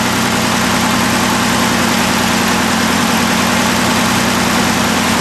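A tri-carb Austin Healey engine with triple SU carburettors idles steadily at close range, a constant low rumble with a fine mechanical buzz and no pauses, with no one talking.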